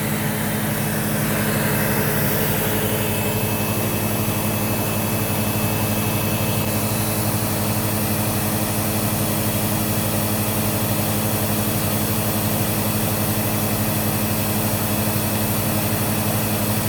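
A Sebo X4 upright vacuum cleaner runs continuously during an airflow test, a steady, loud motor whine and rushing air drone with no changes in level.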